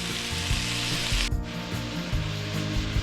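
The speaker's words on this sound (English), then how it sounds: "now I'm going to throw in my ground beef" Ground beef sizzles and crackles loudly in a hot pan, with a steady frying hiss and occasional stirring or scraping thumps, close and continuous with no talk.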